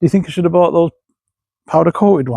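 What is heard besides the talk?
No distinct noise like a dog, phone or traffic.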